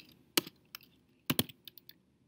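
A few scattered keystrokes clack on a computer keyboard, close and distinct, with small bursts of two or three keys.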